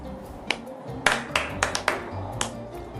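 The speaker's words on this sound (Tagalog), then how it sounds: "Bigyan natin ng 4 na palakpak si Sandra." A classroom group gives a few sharp claps for a student, several distinct quick strikes spaced unevenly over a few seconds, fairly close and light against a quiet room.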